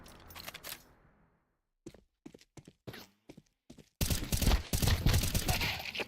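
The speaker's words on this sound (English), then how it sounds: "Aster survives a brutal firefight by a hair to close out the match." Gunfire in a video game firefight: a short lull with a faint trailing sound, then scattered single shots, then a loud dense volley of rapid automatic fire.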